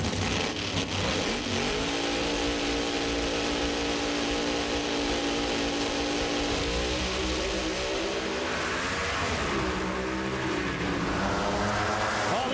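Top Alcohol Funny Car drag racers roar off the line and run down the Houston strip at the O'Reilly Nationals, a loud continuous engine howl with rising and shifting pitch throughout, no talk.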